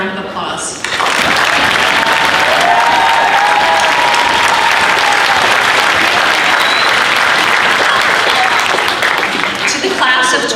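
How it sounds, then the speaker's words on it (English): Graduation audience at the Fir Ridge Campus class of 2025 ceremony bursts into sustained, loud applause, a dense wash of clapping that swells in after a brief pause and holds steady to the end. "please join me in giving them one last heartfelt round of applause"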